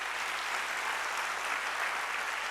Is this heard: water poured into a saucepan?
no